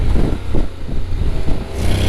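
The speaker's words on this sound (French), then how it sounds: "c'est le bruit moteur" Engine of a 2025 Honda Forza 750 scooter, with a deep motorcycle-like rumble and revving character that holds steady and loud throughout, without talking.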